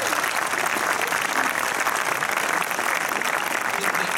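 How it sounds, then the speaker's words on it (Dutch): Applause at a film premiere in a Kinepolis cinema in Antwerp, a loud, continuous wash of many hands clapping in a full hall, even in level from start to finish. "En een applaus alsjeblieft."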